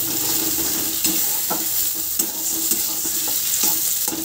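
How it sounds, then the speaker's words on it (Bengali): Egg bhujia sizzles steadily in a pan with fried onion, tomato and chili, with soft scraping stirs and occasional spatula taps over a continuous hiss. "এবার দিয়ে দেবো ডিমটা, হয়ে গেল ডিমের ভুজিয়া"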